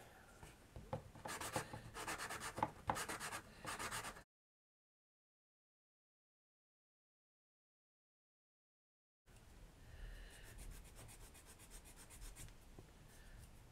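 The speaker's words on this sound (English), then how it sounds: "Sand that down a little bit." Rasping, rubbing strokes of sandpaper on a small air-dried clay miniature food piece, in two bursts of steady close scraping separated by several seconds of silence.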